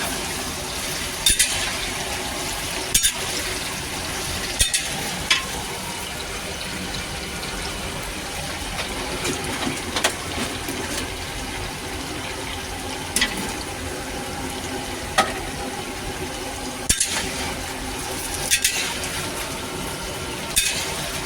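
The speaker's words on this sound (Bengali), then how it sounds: "এখন জবরদস্ত আলুগুলো ভেজে নিচ্ছে" Large batch of potatoes frying in oil for aloo dum in a busy cooking area, a steady loud sizzle and hiss with occasional sharp clinks and knocks throughout.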